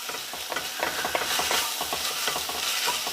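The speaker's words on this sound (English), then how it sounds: "I'm going to saute quickly" Chopped Roma tomato and minced garlic sautéing in a pan, a continuous bright sizzle with rapid clicking, scraping stirs throughout.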